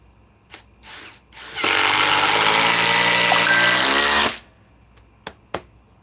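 A Ryobi cordless power tool on an Edge battery drives into wood, a loud steady whine with a rising tone that holds for about three seconds, framed by brief quieter bursts and a couple of sharp clicks afterward.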